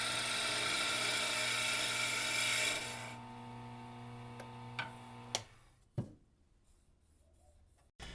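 A gouge on a wood lathe cuts a square blank down toward a cylinder, a loud, steady rasping hum that stops after about three seconds, leaving the motor's tone to wind down under a few sharp knocks.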